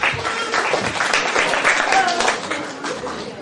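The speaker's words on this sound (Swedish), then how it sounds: "alla applåderar då" An audience at a welcome gathering for Maria Ferm in Eskilstuna applauds steadily throughout, with dense sustained clapping and voices talking over it.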